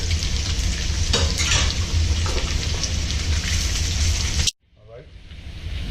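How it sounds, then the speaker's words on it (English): Orange zest sizzles loudly as it hits a hot pan of oil while cooking orange beef, a dense steady fry that cuts off abruptly near the end and leaves only faint crackling. "Now the first thing I'm going to put in is the orange zest, because you want that to cook"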